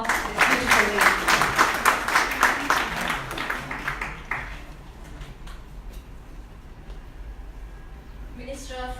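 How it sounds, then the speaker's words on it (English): An audience applauds at a corporate CEO forum evening event, a dense wash of clapping that fades out after a few seconds, followed by quieter room sound and a voice. "Can we have a round of applause for this beautiful lady?"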